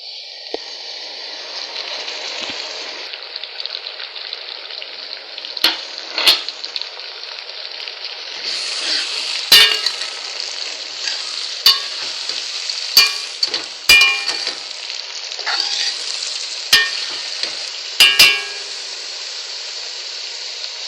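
Tomato and chili hit softened onions in a cocotte, giving a loud, continuous bright sizzle with sharp spoon clicks and scrapes scattered through, no voices.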